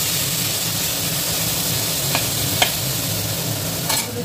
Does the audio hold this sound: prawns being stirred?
yes